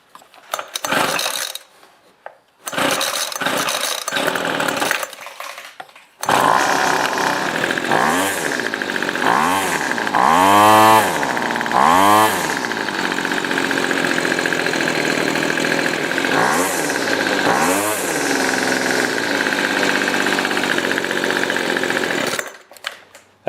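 A two-stroke engine tool running on fuel mixed at 45:1, after a fuel line repair, starts with a few short pulls and then runs steadily close by, its revs rising and falling a few times.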